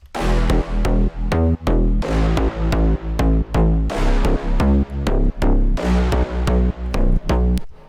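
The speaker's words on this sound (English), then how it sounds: "Alright, so the brass with the bass sounds like this." Punchy synth brass stabs in a steady rhythmic pattern over a deep pulsing bass line in a slap house track, loud and close, with no voices.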